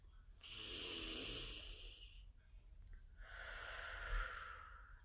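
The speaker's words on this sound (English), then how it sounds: "start with take a deep breath." A slow, deep breath drawn in and then let out, soft and close with a long airy inhale and a matching exhale, with no talking.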